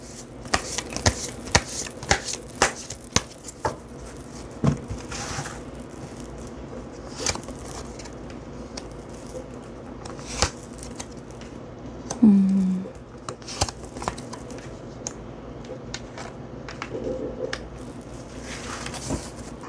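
Tarot cards shuffled by hand in a quiet room, a run of soft, irregular riffling flicks and taps spread across the stretch, close and fairly faint, with no voices.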